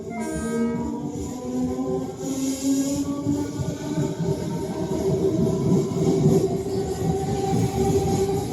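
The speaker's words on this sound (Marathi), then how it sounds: "प्लॅटफॉर्म क्रमांक 3 वर येणारी लोकल 12 डब्याची 8:45 मुंबई छत्रपती शिवाजी महाराज टर्मिनलला जाणारी जलद लोकल आहे" A twelve-car fast local train pulls into a platform in Mumbai, rumbling steadily with a long sustained horn note sounding over the rolling carriages.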